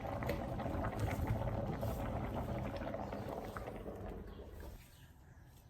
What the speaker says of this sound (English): Now I gonna drain the water out.